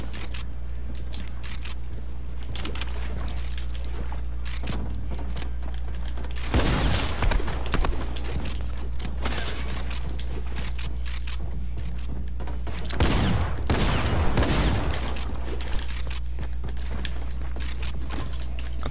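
A rapid-fire weapon in a battle royale shooter rattles as steady fast gunfire throughout, swelling into two louder, denser bursts with booming impacts, and no voices are heard.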